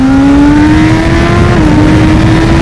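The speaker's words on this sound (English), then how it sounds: "let's try to give it full throttle" A Honda CB1000 Hornet SP motorcycle, 2025 model, is ridden at full throttle in second gear, its engine note rising steadily and loud throughout, close to the microphone.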